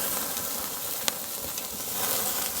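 Ribeye steak sizzling over a live fire, a faint steady crackle and hiss with one small sharp pop partway through.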